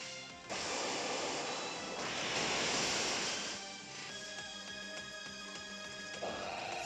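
In Pokémon Omega Ruby, the Waterfall move surges with a loud rushing whoosh like crashing surf, swelling midway before settling into a steady wash with tonal game sounds layered over it.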